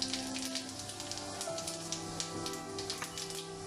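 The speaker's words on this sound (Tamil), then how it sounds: "இப்போ ஆயில் சூடாயிடுச்சு. இப்போ நம்ம வச்சுருக்க பெருஞ்சீரகத்தை சேர்த்துக்கலாம்." Fennel seeds sizzling in hot oil in a pan while making restaurant-style chilli parotta, a steady crackling hiss with dense, rain-like pops, close and continuous with no talk.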